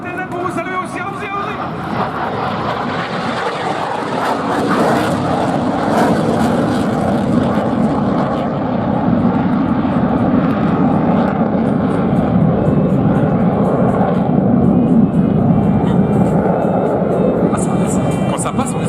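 A loud, continuous roar from French Navy Rafale Marine jets passing over an air display holds steady for the full length and rises slightly toward the end, with crowd noise beneath.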